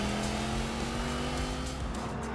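A BMW M8 Competition with four-wheel drive and four-wheel steering, its engine droning steadily and fairly loud as it accelerates, with tyre noise underneath and no talking.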